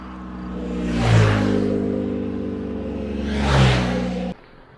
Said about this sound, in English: A lot of cars zooming by.